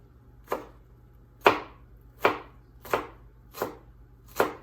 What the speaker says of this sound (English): once we cut, perfect diced shallots